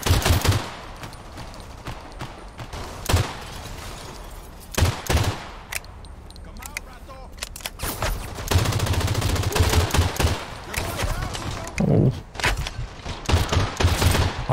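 Rapid bursts of submachine gun fire in a video game, shot at long range, crack out in repeated clusters of sharp loud reports separated by short pauses over a busy background.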